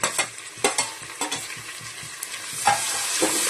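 Onions, fenugreek and mint leaves stir-fry for chicken pulao with a close, continuous sizzle, broken by repeated sharp scraping strokes of a spoon against the pan roughly every half second.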